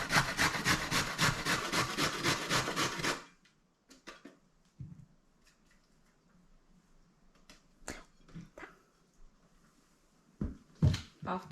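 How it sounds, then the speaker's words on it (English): Carrots scraped over a hand grater in a home kitchen: a quick run of rhythmic, close rasping strokes for about three seconds, then near quiet with scattered small knocks and clatter. "So we have this thing too to grate. We're going to do the carrots."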